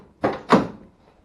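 A car door on a 1979 Trans Am with power locks and power windows is opened, giving two quick close clunks a quarter second apart, then quiet.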